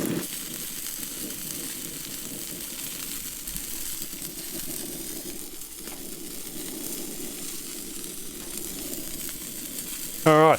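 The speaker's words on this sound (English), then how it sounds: "Now I'm going to put a little bit of butter on it, just to help it toast up." Butter sizzling under a burger bun as it toasts on a hot plate, a steady low crackling hiss that holds throughout and swells slightly near the end.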